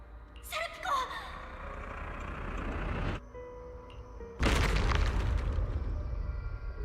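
Explosions in the video game Zenless Zone Zero: a sharp burst with a sweeping whoosh fades out, and after a short silence a heavier, louder boom rumbles on until the end.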